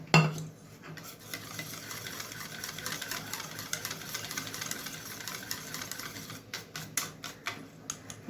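Thick vegetable-fritter (beguni) batter being beaten hard by hand in a bowl, a steady rapid slapping and churning that runs continuously for several seconds, close and fairly quiet, with no talk.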